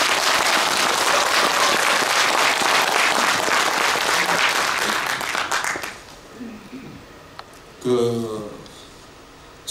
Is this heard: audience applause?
yes